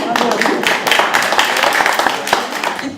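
Conference audience clapping, a dense patter of many hands applauding together steadily and fairly loud, with no voices over it.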